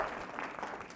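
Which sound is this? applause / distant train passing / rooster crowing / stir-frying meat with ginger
applause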